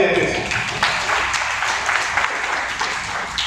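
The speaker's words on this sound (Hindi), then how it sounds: "जोरदार तालियां प्लीज।" Audience clapping fills a seminar hall in Gurugram, a moderately loud continuous patter that holds steady, with some murmuring voices blended in underneath.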